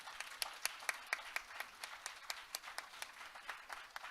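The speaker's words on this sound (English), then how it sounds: "Please give him a warm round of applause" Sparse, fairly faint applause from a small audience after an opening speech at a debate event, individual claps spaced out across a few seconds.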